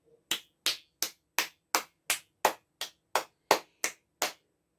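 Twelve sharp hand claps ring out in a kitchen, evenly spaced at a steady rhythm, close and crisp with silence between each one.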